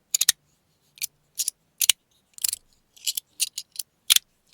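Heavy stainless steel plates on a magnetic fidget slider snap and scrape against each other in about ten short, crisp metallic scratches and clicks, irregularly spaced and close, with no voices.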